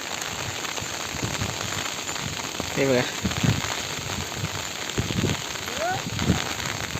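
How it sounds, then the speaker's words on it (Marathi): Heavy rain hisses steadily and densely over a farm field during ploughing with bullocks, with a few short spoken words and faint thuds underneath. "खूपच जबरदस्त असा पाऊस आला"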